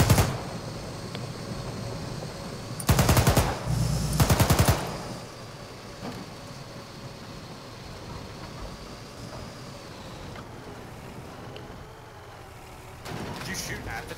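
A belt-fed machine gun in a tank-combat video game fires two short, loud rattling bursts early on and another at the end, with engine rumble and players talking beneath.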